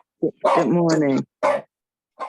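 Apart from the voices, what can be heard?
dog barking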